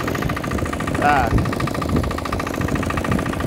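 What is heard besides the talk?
tractor engine running while mowing hay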